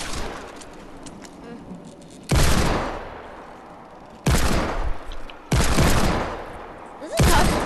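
Bursts of automatic gunfire in Fortnite, four loud sustained volleys separated by quieter gaps, close and harsh, with background game noise between bursts.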